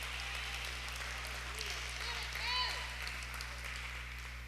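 Church congregation applause during a sermon, soft and distant clapping over a constant low hum, with a brief voice or cheer rising midway.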